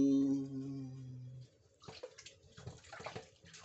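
Raw beef rinsed under running water for a Filipino kilawin, a brief tonal tap hum giving way to close splashing and gurgling in uneven bursts.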